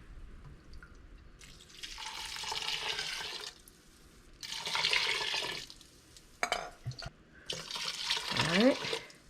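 Apple cider vinegar poured into pickle brine for cucumber chips and relish, heard as three separate bursts of pouring liquid, each lasting about two seconds, with quiet pauses and small clinks between them.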